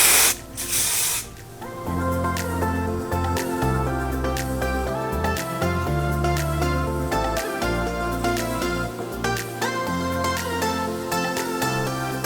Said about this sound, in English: I'm just going to add a tiny bit of hairspray just to help this blowout set.